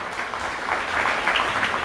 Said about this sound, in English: Can we have a round of applause for her as well?